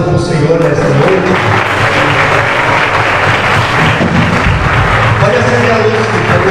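A church congregation at an evening worship service applauds, a loud continuous roar of clapping with voices mixed in, filling the room for several seconds.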